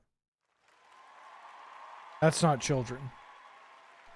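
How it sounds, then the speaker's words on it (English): Applause and cheering sound effect: a steady, broad wash of clapping crowd noise that starts abruptly, with a person talking over it partway through. "Cheering?"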